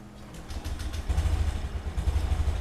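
A new 2021 Honda Scoopy scooter's engine catches and settles into a steady, close-up idle, its low putter swelling after about a second and running on with light mechanical clatter.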